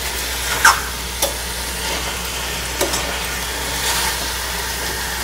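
Potato coriander chutney masala stirred in a pan over a full flame, with a steady low sizzle and a few scattered scrapes of the spoon against the pan.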